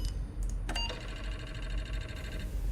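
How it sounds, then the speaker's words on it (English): Sci-fi sound effect of an Apple IIe disk drive: a couple of sharp mechanical clicks, then a sustained whirring electronic tone with a faint buzzy edge that cuts off after about two seconds, heard alone at moderate volume. "So that's the sound of an Apple IIe disk drive."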